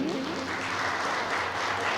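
An audience at a spiritual talk on the Bhagavad Gita breaks into sustained applause, dense close clapping from a crowd that fills the whole moment with no pause.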